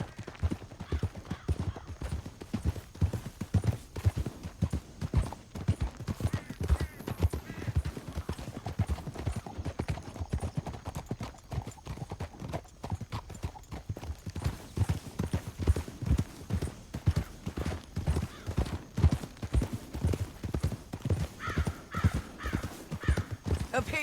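Horses gallop in Red Dead Redemption 2 with a continuous, rhythmic clip-clop of hooves throughout, a whinny now and then and occasional voices.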